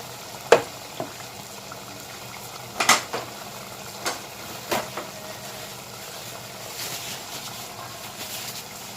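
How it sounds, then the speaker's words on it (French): Chebakia dough on a hot iron is dipped into frying oil, giving a faint bubbling sizzle broken by several sharp clicks and taps of metal against the pot, with no talking. "Et je viens le mettre dans la friture."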